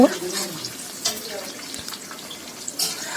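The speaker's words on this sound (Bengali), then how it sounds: "পেঁয়াজ কুচি দিয়ে ভালো করে ভেজে নিতে হবে" Chopped onions fry in oil in a pan for a Bangladeshi beef bhuna, giving a soft steady hiss with a few faint crackles, close by, while someone talks over it.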